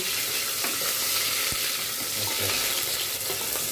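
Onion and cardamom pods, with cinnamon stick, frying in a pan for mutton korma, giving a steady, fairly quiet sizzle with small crackles and a few stirring knocks throughout.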